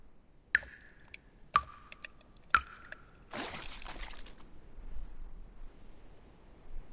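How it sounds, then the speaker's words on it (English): Water drips in a motel-like setting in the game Reverse: 1999, three distinct ringing drops about a second apart, followed by a soft rushing splash and low ambience. "Sounds like dripping water."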